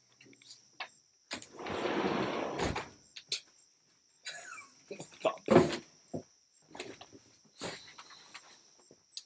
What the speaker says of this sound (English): I'm gonna open the door for the dogs too.